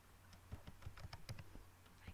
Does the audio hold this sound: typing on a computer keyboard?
yes